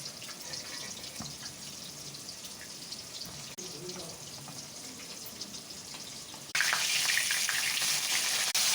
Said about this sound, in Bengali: আমি মাছ ভাজা করছি